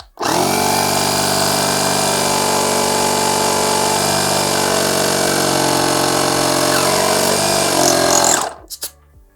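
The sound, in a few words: Aspiring Airflow 2 car air compressor running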